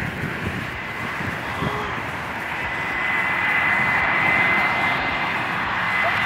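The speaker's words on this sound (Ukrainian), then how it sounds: "Вам ще не видно, але там далеко летить літак." A distant airplane on approach to land at Kraków airport, a steady broad engine roar with a faint thin whine, growing slightly louder toward the end, heard alone without talk.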